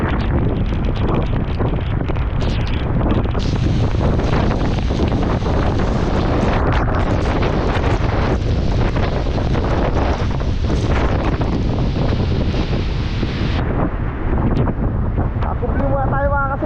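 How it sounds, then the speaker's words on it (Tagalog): Strong southwest monsoon wind buffets the microphone by the sea in the Philippine provinces, a loud continuous roar with rough waves beneath, steady for the whole stretch while someone speaks over it. "Hanging habagat na po yan."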